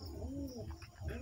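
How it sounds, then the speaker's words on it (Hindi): Domestic pigeons pecking at grain give a soft, low cooing murmur, quiet and close, with faint background hiss. "कुछ ही कबूतर है अभी दाना वगैरह चुन रहे हैं इधर"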